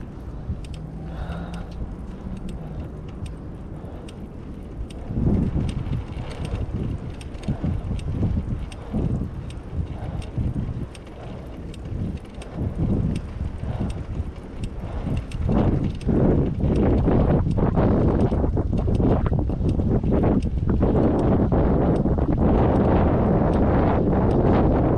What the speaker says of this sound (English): Now to go through the wind tunnel.